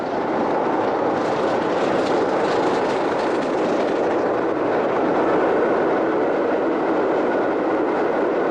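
A British Railways steam locomotive climbs the Settle and Carlisle line's long drag southbound, a steady, loud, dense roar of rushing exhaust and rolling wheels that holds unbroken throughout.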